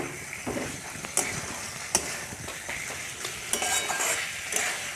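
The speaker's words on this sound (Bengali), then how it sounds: "এবার আলুটাও মশলার সঙ্গে আবারও একটু কষে নেব।" Fried potatoes are stirred through spice masala in a pan for aloo dum, a soft steady sizzle with scattered spoon clinks and scrapes against the pot.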